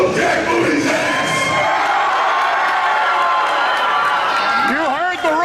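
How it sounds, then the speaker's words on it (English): A wrestling show crowd roars and cheers loudly and continuously, a dense wall of shouting voices with whoops rising over it near the end. "You heard the roar of the crowd."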